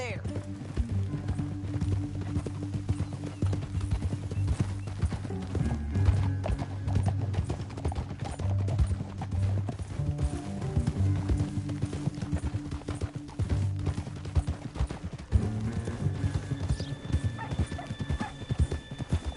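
Horses in Red Dead Redemption 2 ride through a canyon with steady clip-clop of hooves and an occasional neigh, under game music and characters talking.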